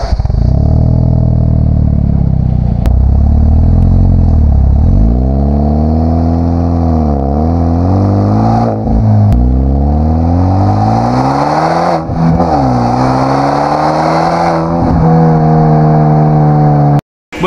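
Hyundai Genesis Coupe 2.0T with a straight-pipe sport exhaust and 3-inch piping, recorded at the tailpipe while driving: loud, raspy rising and falling revs through gear changes, close and continuous.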